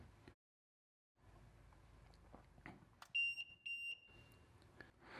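A kind mouse trap's buzzer alarm goes off in a few short, shrill electronic beeps midway through, loud against a quiet room with faint handling noise.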